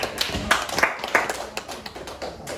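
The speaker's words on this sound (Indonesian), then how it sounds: "Oke, tepuk tangan." A class claps hands together, a burst of close, bright claps from many people that starts strongly and then thins into scattered, softer claps over a few seconds.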